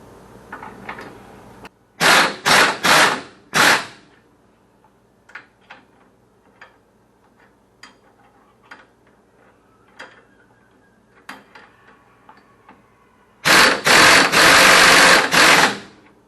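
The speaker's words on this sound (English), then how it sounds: "I'm going to go ahead and run these down with the air gun" Pneumatic impact gun running down disc brake bolts on a 1968 Oldsmobile Cutlass: a few loud, close rattling bursts, a quiet stretch of faint clicks and taps, then one longer sustained hammering burst.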